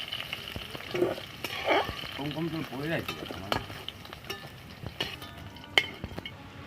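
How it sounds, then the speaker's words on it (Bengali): Potato and drumstick pieces fry together in a pan, a steady close sizzle broken by the scrape and clink of stirring, with a voice speaking briefly in the background. "মা আলুগুলো ভেজে নিচ্ছে, আলু আর ডাঁটা একসঙ্গে ভেজে নিচ্ছে"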